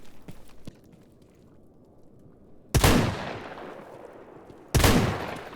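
Gunfire in a modded S.T.A.L.K.E.R. game: a couple of faint early shots, then two loud, sharp blasts a couple of seconds apart, each trailing off into a long decaying echo.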